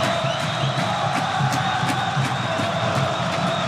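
Vasco supporters roar and cheer nonstop in a packed stadium during the 2011 Copa do Brasil final against Coritiba, a dense, loud wall of crowd noise with rhythmic surges.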